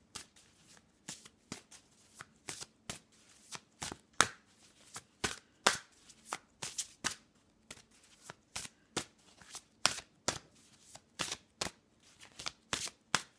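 Dragon oracle cards are shuffled and drawn in quick, rhythmic riffling bursts, crisp snaps repeating steadily and close up in an otherwise quiet room, with no talking.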